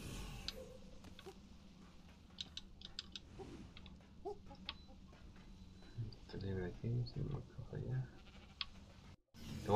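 Goat bleats from the video game ARK, several short cries scattered through a mix of speech, clicking keys and game sounds, fairly quiet and partly under talk.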